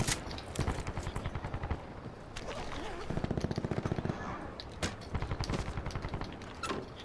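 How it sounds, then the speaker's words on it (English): Automatic gunfire in Call of Duty Black Ops 4's Blackout mode: repeated rapid bursts of shots, fairly close, broken by short pauses, with a voice talking quietly over parts of it. "There's a guy here. He's shooting."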